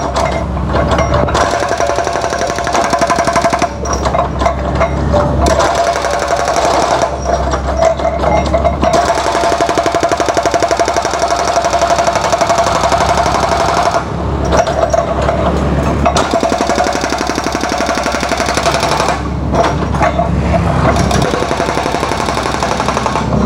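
A hydraulic breaker chisels up a road surface at a road works site in Gabus, pounding loudly and continuously in long bursts that break off into short pauses, with an engine running underneath.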